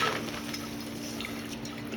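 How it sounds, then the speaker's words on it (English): A 1/4 or 1/3 horsepower Zoeller sump pump pushes water out of buckets and into grow pots, giving a steady close rush of flowing water against a constant low motor hum. "I just use a 1/4 horsepower or a third horsepower Zoller sump pump to pump my water"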